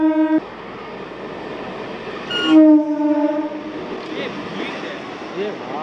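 At Dankuni railway station, a train horn blares in short harmonic blasts, then a longer sustained honk, over platform bustle, rumbling rail noise and distant crowd voices.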